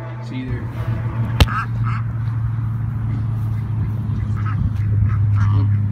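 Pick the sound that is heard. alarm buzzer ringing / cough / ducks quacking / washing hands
ducks quacking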